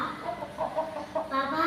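A chicken gives a short run of soft, close clucks, a few quick calls over barely two seconds.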